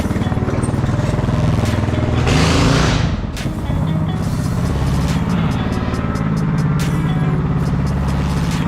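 KT196 drift project car accelerating hard, a loud rasping engine revving up through the gears with a brief pause for a shift, heard from inside the car.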